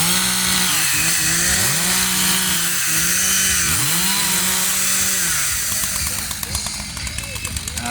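Multiple chainsaws revving as they warm up at a lumberjack show during an Iowa strawberry festival, engines loud and close with rising and falling pitch sweeps, and an announcer talking over them.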